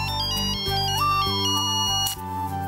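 A phone ringtone plays loud and close, a steady synthetic melody of repeating electronic tones running for the full clip with no voices over it, heard in the middle of a conversation in a Tamil television serial.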